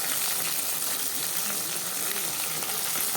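Okra frying in a pan with onion and garlic gives a steady, close sizzle and crackle of hot oil that holds even throughout without pause.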